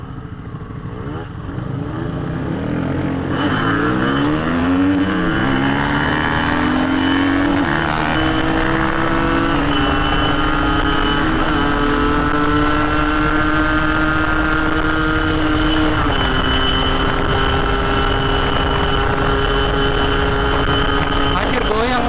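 Yamaha RX King motorcycle, a 2007 Catalyzer model with a stock engine and only the pilot jet changed, revving hard and rising in pitch as it accelerates to top speed, a loud continuous two-stroke whine with no talk.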